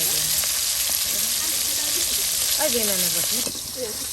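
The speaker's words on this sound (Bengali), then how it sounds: "এই যে ইলিশ মাছের টুকরোগুলো ভেজে নেওয়া হলো" Pieces of hilsa fish frying in a pan of hot oil, a dense, loud, continuous sizzle close by that runs the whole time. A faint voice comes through under the frying.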